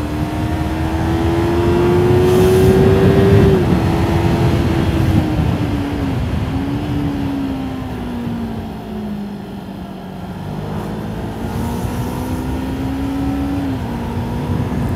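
A pickup truck engine drones steadily up close, its pitch rising and falling with gear shifts and speed changes, accompanied by continuous road rumble.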